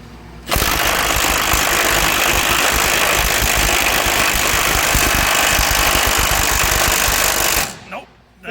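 A Milwaukee M18 Fuel mid-torque impact wrench hammers loud and close on a Honda crankshaft bolt, a sustained rattling burst of about seven seconds that ends abruptly, followed by a brief muffled voice.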